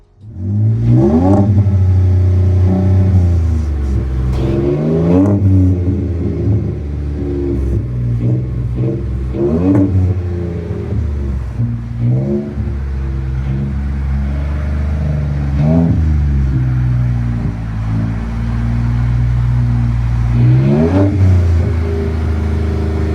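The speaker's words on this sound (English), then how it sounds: "Interior tone level is mild with this Street Max split dual exhaust" A 2018 Ford F-150 EcoBoost fitted with a Street Max split dual exhaust revs repeatedly, loud and close, each throttle blip rising and falling over a steady deep idle rumble with no talk.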